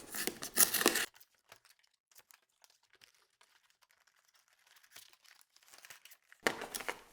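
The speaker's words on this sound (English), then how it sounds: "I'm tearing the box." Cardboard packaging of a Blinger box is torn and crinkled open in two loud bursts at the start and end, with quieter rustling and handling in between.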